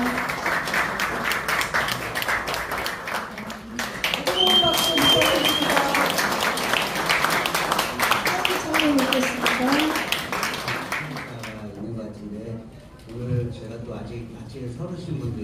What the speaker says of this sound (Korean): 다시 한번 수고하신 분들에게 뜨거운 박수 부탁드립니다.